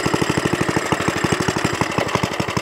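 A vintage Suffolk Corporation Mk2 lawnmower engine runs nearby with a loud, rapid, even single-cylinder chug, pulsing steadily throughout.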